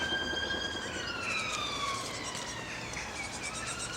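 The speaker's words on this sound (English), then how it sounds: "There you go, another damn siren. Every day those go off." A siren wails far off, its rising and falling tones thin and faint over a steady outdoor hiss on an allotment plot with apple trees, no voices heard.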